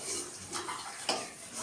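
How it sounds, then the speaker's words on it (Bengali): Papad frying in a pan in a home kitchen, with soft sizzling and a few light metallic clinks of utensil against the pan, close and quiet. "পাঁপড় ভাজা হচ্ছে"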